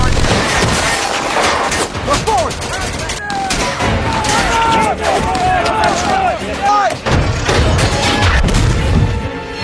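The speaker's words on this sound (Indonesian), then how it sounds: "tiba-tiba mereka dihujani tembakan oleh pasukan Jerman" Dense, loud battle gunfire from a World War II tank war film, with booming blasts and rapid bursts running throughout, chaotic and continuous, with shouting voices mixed underneath.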